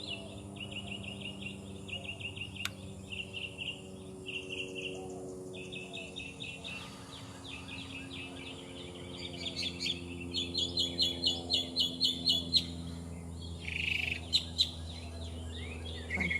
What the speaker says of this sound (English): My goodness, the birds are so talkative today.